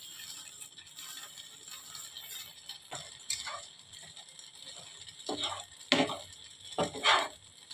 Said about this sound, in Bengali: একটু ভালো করে নাড়তে হবে অনেকক্ষণ নিয়ে